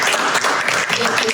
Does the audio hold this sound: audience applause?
yes